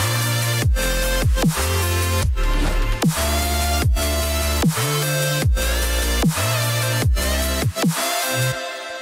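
A melodic dubstep drop plays loud and dense, with a buzzing, harmonically rich growl bass stabbing in rhythm over heavy kicks and snares, with white-noise wash and a sustained melodic layer.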